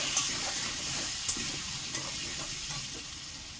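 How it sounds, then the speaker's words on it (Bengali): Diced potatoes coated with turmeric fry in hot oil in a pan, giving a steady, moderately quiet sizzle with faint clicks of stirring throughout, no voices. "আমি একটু হলুদ দিয়ে দিলাম আলুতে, একটু আমি ভালো করে লাল লাল করে ভাজবো।"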